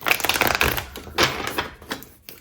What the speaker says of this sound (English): I'm just gonna shuffle a couple times.